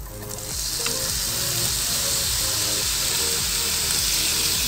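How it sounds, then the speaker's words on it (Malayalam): Grated apple frying in hot ghee, a loud, steady sizzle with a bright hiss that swells at the start as the apple goes in, then holds continuously with occasional faint stirring. "ഇനി നന്നായിട്ട് നമുക്ക് നെയ്യിലിട്ട് വരട്ടിയെടുക്കാം"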